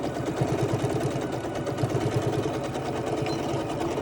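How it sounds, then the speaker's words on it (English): A sewing machine stitches straight down the side of a fabric face mask, its motor running in a steady, even, rapid whir with regular needle clatter, close and continuous with no talk. "And now you can sew straight down this side."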